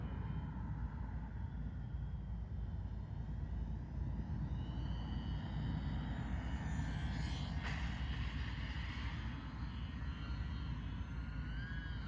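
UMX P-47 RC warbird model plane flying a touch and go, its small electric motor giving a steady buzzing drone throughout, moderately loud with a brief whine rising near the middle, heard outdoors with no talk.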